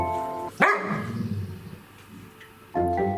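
A mother dog scolding her puppies with a single sharp bark, near and loud, rising over a quieter stretch before low rumbling sounds return.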